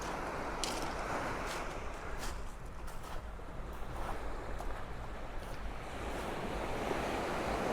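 Sea surf washing steadily onto the shore at Tekirova beach, a continuous broad rush of breaking waves with wind noise on the microphone and no voices.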